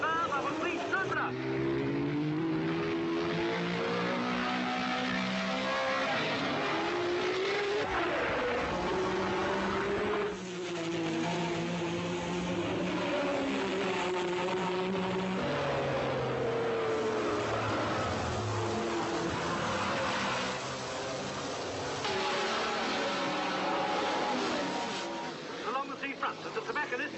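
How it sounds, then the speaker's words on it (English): Formula One race cars from 1966, a red Ferrari leading a green BRM number 12, with loud, continuous engine howl whose pitch rises and falls as they race by through the whole stretch. "it's Sarti's red Ferrari ahead of Stoddard's green BRM number 12."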